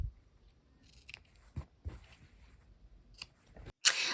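Scissors snip the corners off pieced quilt fabric in a few sparse cuts, ending in a sharper, louder snip after faint handling sounds.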